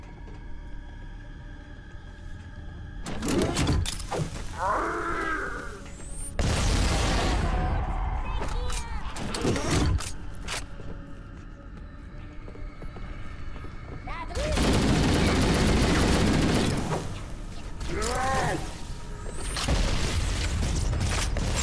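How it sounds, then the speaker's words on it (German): Grenades and gunfire erupt in Halo: Combat Evolved Anniversary, with several loud booming bursts and rattling shots in clusters, separated by quieter stretches of ambient hum. "eine gute Granate, ne?"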